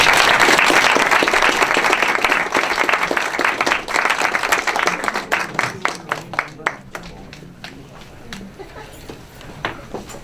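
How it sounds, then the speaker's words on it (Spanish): Conference audience applauds two speakers with loud, dense clapping that gradually thins into scattered individual claps over about ten seconds. "les ruego un aplauso para ambos ponentes"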